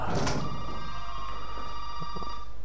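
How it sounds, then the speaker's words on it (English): A telephone in the video game Resident Evil 7: Biohazard rings with a sustained, buzzing electronic bell tone, steady and fairly loud over a background hum, with a few faint clicks. "Oh, phone rings."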